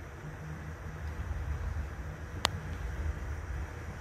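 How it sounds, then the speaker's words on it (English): MSI RTX 2080 Ti Ventus OC graphics card fans spinning under a benchmark load, a faint steady airy whoosh with low hum and a single sharp click midway; very quiet, no speech. "this is the sound of the fans."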